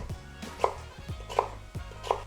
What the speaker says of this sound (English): You pile the slices into sticks and the sticks into cubes.